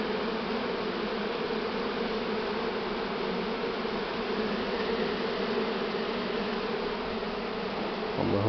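A swarm of honey bees buzzes continuously as a queen is caught, a dense steady drone that stays loud and even throughout, with a brief low bump near the end.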